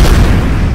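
Gunfire in XCOM Enemy Unknown, one very loud, close, booming blast that fills the whole moment with a heavy low rumble and no voices.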